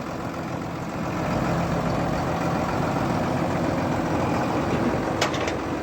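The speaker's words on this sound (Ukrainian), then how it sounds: "Працює тракторець ідеально" A Solis 130 six-cylinder tractor engine idles steadily at close range, a smooth, even low rumble that holds without change throughout, with no voices.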